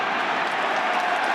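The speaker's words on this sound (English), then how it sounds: "You hear the cheers. Ironic cheer from the crowd." An ironic cheer rises from the crowd at a Tipperary versus Cork hurling match, a steady broad roar that holds at even loudness for its whole brief length with no talk over it.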